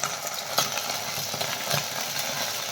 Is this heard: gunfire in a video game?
no